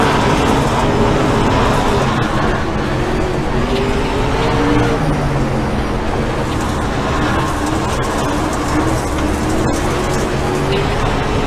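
Race cars roar around a track in close battle, with a continuous dense engine and road noise that stays loud and steady throughout, no pauses.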